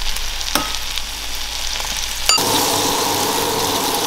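Bacon sizzling in a hot pan, a dense steady crackle close to the mic that jumps louder partway through as the pan is stirred or moved, with no voices.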